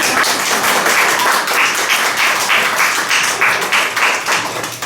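Family members applaud at a 90th birthday party, steady and lively clapping from a small group, loud and close, with no talking over it.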